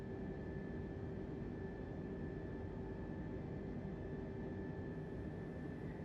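An Airbus A320 in the Microsoft Flight Simulator 2020 game gives off a steady, unbroken engine drone with a constant hum, moderately quiet and unchanging throughout.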